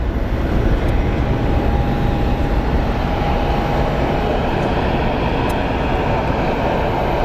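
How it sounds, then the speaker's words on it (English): At Phoenix Sky Harbor a Boeing 767 airliner taxis out, its engines producing a loud, continuous, dense roar with a faint steady whine riding on top, unchanging and close for the whole stretch. "And here we have our 767 taxiing out."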